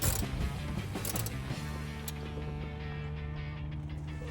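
Bolts are worked loose from the shifter of a '73 VW Beetle, a close run of rapid ratcheting clicks for about a second and a half, then a steady mechanical hum that fades.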